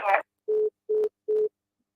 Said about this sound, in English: The phone keeps going off.